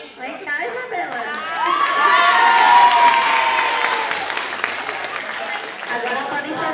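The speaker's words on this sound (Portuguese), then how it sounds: "vem cá, para receber um aplauso" A crowd of children at a Brazilian school civic assembly claps and cheers, with shouting voices rising and then settling into scattered applause.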